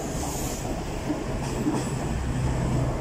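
A train pulls out of Nottingham station with a steady, loud rumble of wheels and engine noise, a continuous rolling drone that holds at close range throughout.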